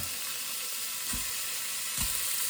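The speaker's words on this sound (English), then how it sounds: "We're just going to saute this meat, just get it nice and brown," Beef brisket sautés in a hot pan with a constant hissing sizzle close up, and a couple of soft low knocks from the pan partway through. No one is talking.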